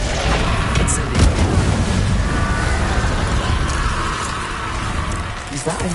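An Incendio fire spell is cast in the Hogwarts Legacy video game, giving a dense, roaring burst of crackling flame that holds steadily for several seconds at close range.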